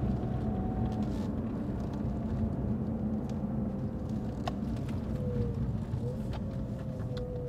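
A 2020 Lotus Evora GT accelerates through a right-hand turn. A steady, droning engine note fills the cabin throughout, with a faint tonal whine rising and falling over it.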